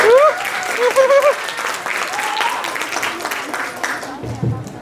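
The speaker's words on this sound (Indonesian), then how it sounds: "Kita kasih aplaus dulu untuk semua guru" Applause for teachers at a school quiz competition semifinal, a crowd clapping steadily through the whole stretch with excited voices and whoops over it, fading out near the end.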